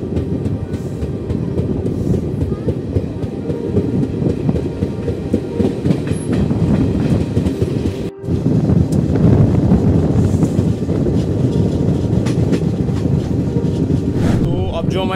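Passenger train on the Bandra to Delhi route running on rails, a loud continuous rumble with clattering wheels and wind buffeting the microphone, nearing Delhi Sarai Rohilla.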